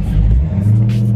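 Deep, close rumble of a Dodge Charger Scat Pack's naturally aspirated V8 pulling under acceleration, a brief throaty surge with a steady low growl.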